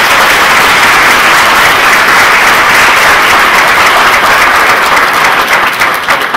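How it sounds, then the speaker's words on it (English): Sustained, loud applause from a large audience at a Navy graduation ceremony, with dense continuous clapping that fades slightly toward the end. "Give them a round of applause."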